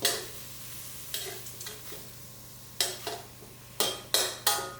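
Chicken giblets stir-fried with fish sauce in a pan for an Isan-style curry with dill, a constant close sizzle broken by repeated loud scraping bursts of a spatula stirring the food.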